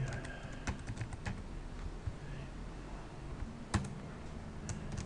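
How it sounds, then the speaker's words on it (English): Keys clatter on a computer keyboard as a chart title is typed in a spreadsheet, a close, irregular patter of soft clicks with a few sharper taps and no speech. "I'm just going to type in time versus"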